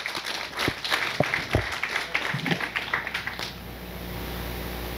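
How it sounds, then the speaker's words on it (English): Audience applause breaks out after a talk on helicopter wake turbulence, scattered claps rising into a steady round that fades out toward the end. "A round of applause, please."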